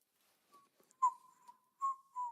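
A person whistles a few short, clear tones close by, with brief pauses between them and nothing else in the background.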